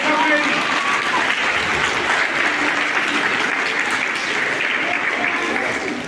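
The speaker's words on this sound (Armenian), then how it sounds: "Ծափարում եմ ձեզ, ծափարեք ձեզ ծափարեք։" An audience at a school year-end ceremony applauds steadily and loudly throughout, a dense, even wash of many hands clapping with no pauses.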